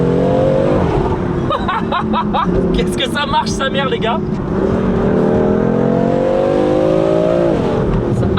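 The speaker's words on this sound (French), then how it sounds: "on entend énormément le souffle de la voiture" A tuned BMW M4 with Brembo brakes is heard from inside as its engine pulls hard and revs continuously through gear changes, loud and close, while someone talks excitedly over the drone.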